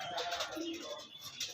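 A pet pigeon cooing softly nearby, a few low gentle coos over faint background noise.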